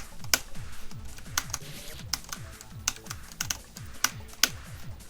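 Keys clack on a computer keyboard in irregular bursts of sharp taps, close and fairly quiet, with a faint repeating electronic chirp behind them.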